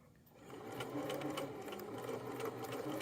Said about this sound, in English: I'll just keep sewing, lining up with the 7/8 over here on my stitch plate